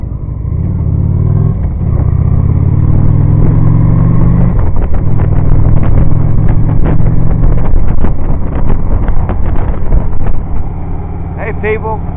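A moped ridden along a road in Anderson, South Carolina gives a steady engine drone with heavy wind rush buffeting the microphone throughout, and a voice is heard near the end.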